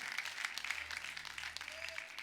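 Women in a church congregation clap during an evening sermon, a quiet, fairly steady patter of hands, distant and low in level, over a faint background hum.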